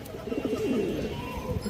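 A female Jaggola pigeon coos softly up close, a short low throaty rolling call over faint room background.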